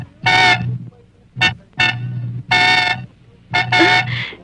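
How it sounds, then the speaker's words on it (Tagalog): A car horn honks repeatedly in short and longer blasts, loud and close, with brief gaps between each toot. "ako busina ng busina dito"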